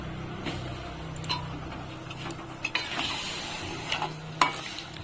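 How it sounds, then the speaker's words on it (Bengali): Kashmiri potato curry (aloo dum) being stirred in a pan after a little water is added: a soft simmering hiss with scattered spoon clicks and taps on the pan, close and unvoiced. "কাসুরি মেথি দিয়ে একটু নাড়িয়ে চাড়িয়ে আমি এখন জল দিয়ে দিচ্ছি"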